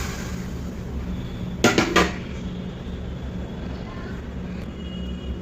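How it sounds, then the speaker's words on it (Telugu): Tomato pieces go into a dry kadai on a stove top with two quick metallic clanks, over a steady background hiss and hum. "ఇప్పుడు స్టవ్ మీద బాండి పెట్టుకొని ఆయిల్ ఏమి యాడ్ చేయకుండా ఈ టమాటో అన్నిటినీ యాడ్ చేసేయాలి"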